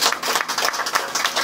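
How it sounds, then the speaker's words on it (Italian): Audience at the Premio Pellicanolibri 2023 award event clapping, a dense, steady wash of many hands applauding without any talk over it. "qui ci vuole un applauso per questo"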